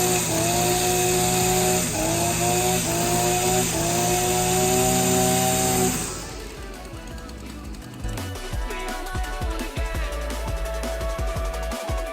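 A Husqvarna 243RJ string trimmer engine buzzes loudly and steadily for about six seconds with small throttle dips, then cuts off, leaving quieter handling clicks and knocks.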